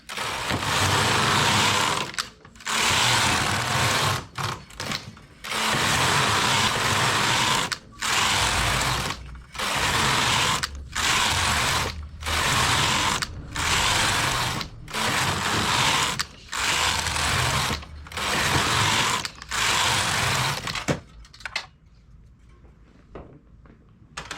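A domestic knitting machine carriage working rows of a side opening band, loud mechanical ratcheting passes repeated about a dozen times with short gaps, ending in quieter clicks.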